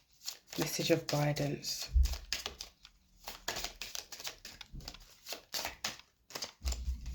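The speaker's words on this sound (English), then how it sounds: "Last shuffle." Brief riffling bursts of tarot cards being shuffled, interspersed with soft clicks and taps, while a person speaks quietly in between.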